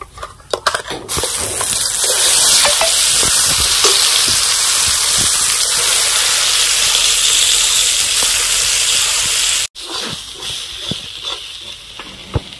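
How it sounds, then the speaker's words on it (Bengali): Mustard paste frying in mustard oil with black cumin in a pan, a loud close hissing sizzle that holds steady, briefly cuts out and resumes, with a few stirring knocks. "দিয়ে দেব সর্ষের তেল, আর একটু দিয়ে দেব ফোড়ন, কালো জিরে। এখন সর্ষের পেস্টটা দিয়ে দেব।"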